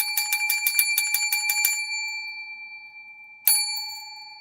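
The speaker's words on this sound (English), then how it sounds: "I love my little bell." A small hand bell at a crochet community gathering rings in a quick run of about nine bright, close strikes, then falls silent before one more clear ding that fades out.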